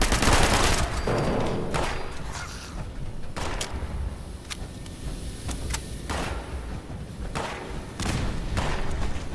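Turrets fire inside a facility in the video game Fallout 76, with bursts of rapid gunfire and heavy thuds coming in clusters throughout, loud at the start and near the end with short lulls between.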